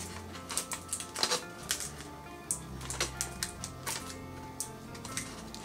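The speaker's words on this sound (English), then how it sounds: "I'm taping the string to the bottom of my cup." Tape being pulled and pressed onto a cup to fix a string and pencil for a homemade cup and ball game, giving a run of close, quiet tapping and crinkling clicks at an irregular rhythm with no speech.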